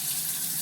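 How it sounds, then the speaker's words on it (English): A MOEN smart kitchen faucet runs water in a steady, close hiss of flow into a sink, brief and unbroken. "First, I will run the water to temperature."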